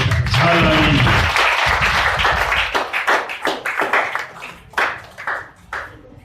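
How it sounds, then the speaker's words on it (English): A church congregation claps hands together at a service, first in a dense loud burst under voices, then thinning into a run of distinct, close claps. "Please clap your hands together."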